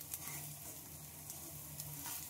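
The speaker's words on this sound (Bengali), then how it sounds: "এই সাইডটা একটু ভালোভাবে ভেজে নিচ্ছি উল্টে নিয়ে।" A potato and egg omelette, freshly flipped, fries in oil in a pan with a soft, steady sizzle and scattered small crackles, fairly faint and without any talking.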